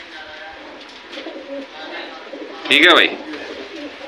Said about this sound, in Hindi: ये देखो जी ये भी सेल में है भाई लखा कबूतर भाई।